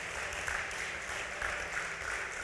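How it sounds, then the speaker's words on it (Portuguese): Steady, continuous applause from a crowd, even in loudness throughout with no voices standing out. "Pode aplaudir a Jesus"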